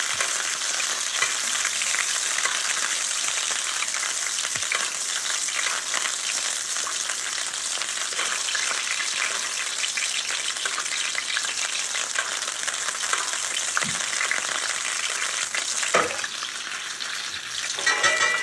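A salmon fillet sizzles skin-side down in a hot pan, a steady close crackle and hiss with a few louder pops and spatters, and almost no talk.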